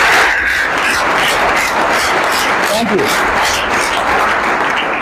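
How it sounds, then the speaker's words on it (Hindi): An audience at a motivational direct-selling talk breaks into loud, dense applause that continues throughout, with a brief spoken thanks over the clapping. "एक बार जोरदार ताली बजाइए।"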